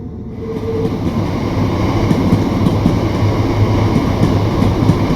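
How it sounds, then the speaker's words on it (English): A Class 377 electric multiple unit train runs on the East Coastway route in Train Sim World, a steady loud rumble building in from quiet, with rhythmic clicking of wheels over rail joints and no talking. "The East Coastway DLC comes with a new single locomotive, the 377-4 EMU."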